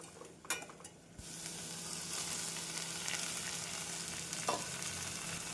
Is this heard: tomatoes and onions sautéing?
yes